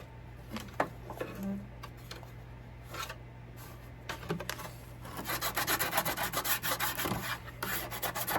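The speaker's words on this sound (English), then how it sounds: "using the sander and the side of the block" A sander works across a small wooden dollhouse front door, giving soft intermittent rubbing strokes at first that turn into a steadier, louder rasping scrub in the final seconds, with no talk over it.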